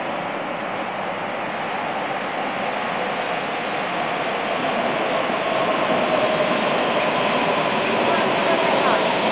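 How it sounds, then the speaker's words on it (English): A double-decker train bound for Niigata runs past at Omiya station, its loud rumbling roar building gradually and growing stronger toward the end, with people talking on the platform over it. "Yeah, it's a double decker. Yeah, it's a double decker. Oh yeah, it's the one going to Niigata."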